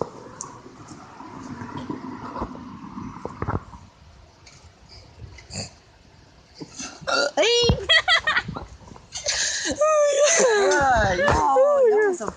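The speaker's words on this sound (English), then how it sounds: "I don't think I'm done hiccuping." Friends hiccuping in a quiet room, sharp short vocal hiccups and burp-like gulps coming in the second half, near and loud, with background chatter and laughter around them.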